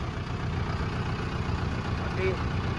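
A steady, low engine rumble idles continuously throughout, a heavy motor running at close range with no clear changes in pace.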